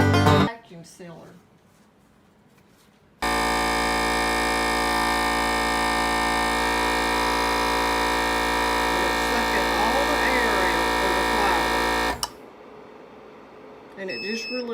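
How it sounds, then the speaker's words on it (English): A vacuum sealer drawing air from a mason jar of flour, a loud steady motor drone with a constant buzzing hum running about nine seconds before cutting off, with quieter sounds on either side. "Vacuum sealer."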